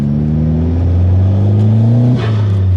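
A VW Fox GTI engine revs hard with a loud, droning exhaust note that climbs in pitch, then drops off sharply near the end.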